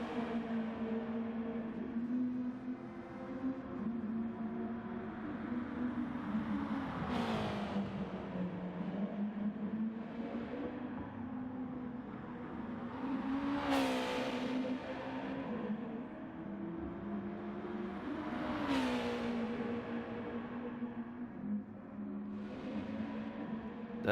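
Race car engine in a racing game droning steadily through the whole stretch, with pitch sweeping up and down as it revs through gears, several sharp rises and falls standing out over a continuous mechanical hum.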